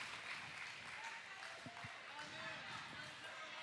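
Crowd at a National Pickleball League center court match in Cincinnati applauds after a fast rally, a faint, steady wash of clapping from a distance under a commentator's voice.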